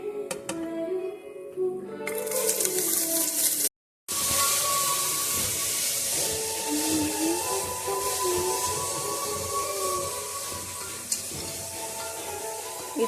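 Onions hit hot oil in a one-pot biryani pot with cardamom, a loud, steady, close sizzle and hiss that swells suddenly and then carries on continuously after a brief cut.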